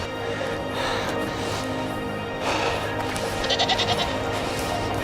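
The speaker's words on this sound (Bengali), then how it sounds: "একটি ছাগলের দল" A herd of goats bleats along a mountain trail, several wavering calls rising over a constant windy outdoor background, fairly close and overlapping toward the end.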